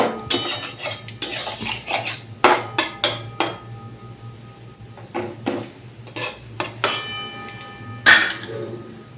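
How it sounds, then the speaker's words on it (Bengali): Poppy seeds are ground for a potato and paneer dish, producing repeated hard knocks and clinks in an irregular rhythm, close and fairly loud, with scraping between strikes. "এই দেখো পোস্তটা বেটে নেবো"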